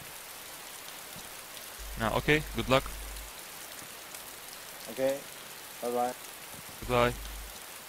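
Steady rain falls in the DayZ survival video game, a constant hiss of drops on surfaces running underneath several short bursts of people talking.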